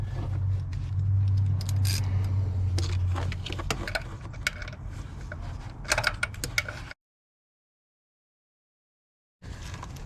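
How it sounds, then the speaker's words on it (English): Wrench loosening a 14 mm bolt on the idler pulley of a Toyota Tundra 5.7 engine: close, irregular metallic clicks and scrapes over a low steady hum, then silence near the end. "So this one is also a 14 millimeter. Just get a wrench down there and loosen it up."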